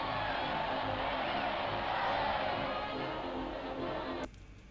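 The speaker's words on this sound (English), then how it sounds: "The crowds are cheering" A crowd cheers in a Popeye cartoon, a broad steady roar of voices that holds its level and then cuts off sharply near the end.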